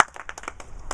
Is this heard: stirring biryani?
no